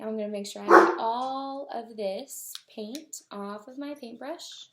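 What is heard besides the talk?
dog barking while playing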